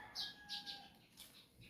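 Backyard chickens chirp and cluck in a few short, bright bursts close by, with a thin whistling tone running underneath, and no one talking.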